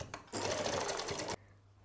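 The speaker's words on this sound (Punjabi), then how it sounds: "ਹੁਣ ਆਪਾਂ ਇਹਦੇ ਸਲਾਈ ਲਗਾਉਣੇ ਆ" A sewing machine stitching a lace neck design on a plain suit, running in one steady loud burst of about a second before stopping, with a low motor hum before and after.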